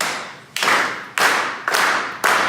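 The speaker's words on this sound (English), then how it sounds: "I want you all to help me out, and I want you to clap with me." An audience at a guitar product showcase claps along in unison, five sharp group claps spaced at a steady beat, with no talk over them.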